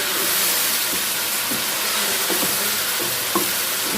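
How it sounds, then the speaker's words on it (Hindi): Chicken karahi frying over high heat in a wok, a steady loud sizzle with faint stirring scrapes and clinks through it, no voices. "मैं थोड़ी सी आंच तेज़ करके भून लेती हूँ अच्छी तरह"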